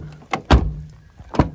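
A Mazda MX-5 door is shut after its hinge bushings are adjusted. A few close, solid thuds and clunks arrive within about a second and a half, the loudest near the middle, with no voices.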